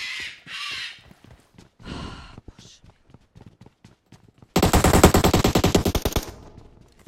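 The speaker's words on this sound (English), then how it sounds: "let me put the bird to the cage one second" A pet bird gives a few short harsh squawks at close range, followed by a loud rapid burst of machine-gun fire from a video game.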